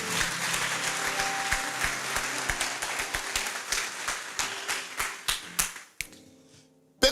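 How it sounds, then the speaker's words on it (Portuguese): A church congregation claps during a sermon, a steady rhythmic applause with sharp individual claps that drops away near the end, followed by a brief sudden burst. "se é para aplaudir, aplaude ao Senhor"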